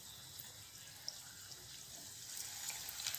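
A vegetable patty frying in hot oil on a medium flame, a steady close sizzle and hiss that grows slightly louder toward the end.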